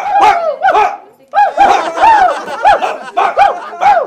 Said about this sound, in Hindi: साले भौंक रहे।